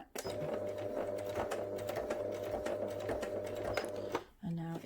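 A sewing machine stitches off the end of a dart on a fabric flat cap for a memory bear, adding a few reverse stitches: a close, steady motor whir with rapid needle clatter that stops abruptly before a voice speaks briefly.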